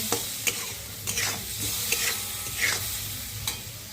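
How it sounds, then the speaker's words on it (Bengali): Vegetables stir-fry in a pan with salt and turmeric powder, making a soft, continuous sizzle. A spatula scrapes and taps at an uneven pace close by, with no voices. "লবণ আর হলুদ গুঁড়ো দিয়ে ভালো করে কষিয়ে নেব"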